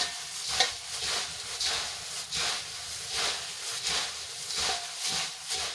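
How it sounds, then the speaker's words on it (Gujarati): Crunchy sev and garlic puffed rice being tossed together by hand in a bowl, a steady run of soft rustling, crackly swishes in repeated waves, close and fairly quiet with no talking. "સેવ નાખીને આપણે એકવાર હલકા હાથે સરસ રીતે મિક્સ કરી લઈશું"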